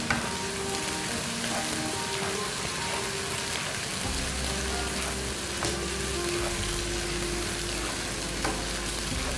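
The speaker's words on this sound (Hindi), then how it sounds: "अच्छी तरह फ्राई करें हरी मिर्च" Chopped green chillies frying in a pan, a steady close sizzle and crackle of hot oil, with occasional stirring scrapes.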